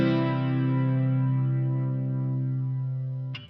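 Electric guitar run through a Line 6 Helix chorus effect set to slow speed and high depth: one sustained strummed chord rings out alone for several seconds with a gentle, slow shimmer, then a brief pick scrape at the end.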